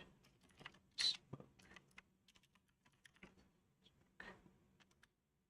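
Quiet, sparse typing on a computer keyboard in a few short clusters of clicks with gaps between them, and no talking.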